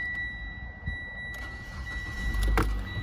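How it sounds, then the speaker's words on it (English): A 2014 Mitsubishi Outlander ES AWD starts up nearby, a brief crank catching into a low engine rumble that swells toward the end, with no talk over it. "Let's give the car a quick start now for us."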